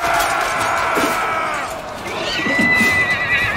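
Horses whinny close and loud during a battle in a Lord of the Rings war game, several rising neighs overlapping with faint hoof clatter and a distant crowd.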